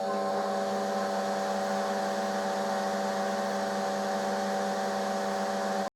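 The spindle motor of a Boxford lathe under LinuxCNC control runs at steady speed, giving a constant loud electric hum with strong tonal harmonics that cuts off abruptly at the end, with no voices.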